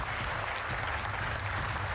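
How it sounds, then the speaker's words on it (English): Dense, even clapping from a large plenary audience at a high-level conference on Africa, continuous and fairly distant with no voices on top. "I think we deserve a clap for Africa."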